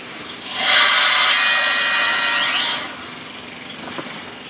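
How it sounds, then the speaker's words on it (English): A nut is threaded back onto a Polaris RZR steering shaft, producing a close, steady rasping scrape that lasts about two seconds and then fades into quiet background noise. "we're going to have to thread that baby back on there"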